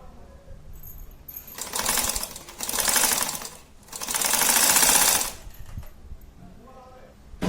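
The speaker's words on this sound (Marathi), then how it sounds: "इथे असं सरळ शिवून घ्यायचं" Sewing machine stitching fabric pieces straight to make ladies' socks or boots, running in two or three bursts of a few seconds each with quieter pauses between, close and fairly loud.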